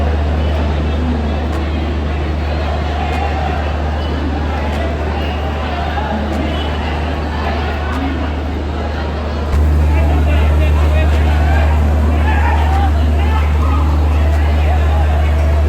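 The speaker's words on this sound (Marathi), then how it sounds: "एवढी कोकण रेल्वेला गर्दी असते आपल्या प्रशासनाला माहिती आहे" A dense crowd chatters on a Konkan Railway station platform, a constant loud babble over a deep rumbling hum that steps up louder partway through, with voices heard throughout.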